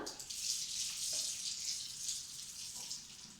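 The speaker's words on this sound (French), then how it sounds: "je vais remplir mon flacon avec de l'eau froide." Cold tap water runs steadily into a small sensory bottle, a continuous hissing gush with a faint rattle, close and fairly quiet, with no talking.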